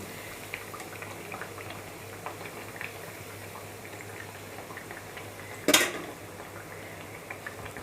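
Vadas frying in hot oil in a village kitchen, a steady soft bubbling sizzle throughout, with one sharp metallic clatter of a utensil partway through.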